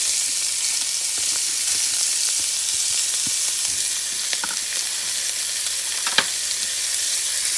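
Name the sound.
onions frying in a pan for sofrito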